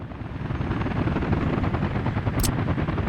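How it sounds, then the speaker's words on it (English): In the city-building game Workers & Resources: Soviet Republic, helicopters make a steady, close, rapid rotor thump that stays loud and continuous, with a brief high hiss near the end. "we might as well put the helicopters to work on this"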